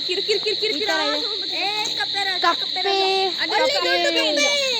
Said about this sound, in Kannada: ಫ್ರಾಗ್ ನೋಡಿ ಸೌಂಡ್ ಕಪ್ಪೆ ಆಯ್ತಾ?